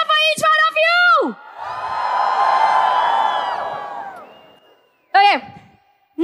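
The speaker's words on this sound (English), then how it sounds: "can we have a huge cheer for each one of you?" An audience cheering at the YouTube fan festival in India, a loud swelling crowd roar that peaks and fades over a few seconds, framed by an amplified voice shouting into a microphone before and after.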